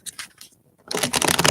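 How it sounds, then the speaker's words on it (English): Tarot cards shuffled by hand, a short riffle at first, a pause, then a loud, dense burst of rapid flicking and rustling close to the mic. "One more card. One more shuffle, sorry."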